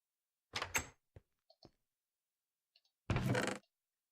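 A door opens in the Minecraft video game, giving a short wooden creak-thud, then soft clicks and a second, longer burst of sound, all set against silence.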